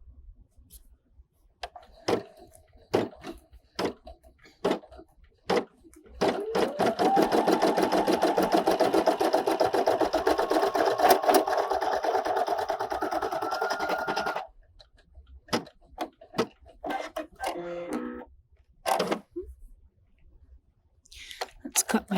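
A Brother embroidery machine runs a steady, fast rattling stitch while sewing appliqué underlay for about eight seconds, with scattered clicks and handling noises before and after and a voice talking at the start.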